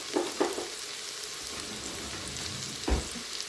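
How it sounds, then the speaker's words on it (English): Onions softening in oil inside an Instant Pot, giving a steady, fairly quiet sizzle and fry hiss with a few soft stirring knocks, no talking. "our onions have been softening for just a little bit"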